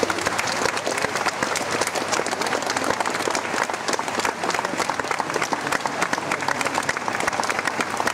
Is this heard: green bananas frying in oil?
no